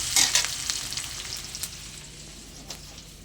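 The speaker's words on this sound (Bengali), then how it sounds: "আমি তেলের মধ্যে দিয়ে দিয়েছি কালো জিরে, পেঁয়াজ কুচি, একটু ভাজা ভাজা করে নেব।" Chopped onion and nigella seeds sizzle in hot oil in a pan, a crackling hiss with a few sharp scrapes of stirring, loud at first and then settling.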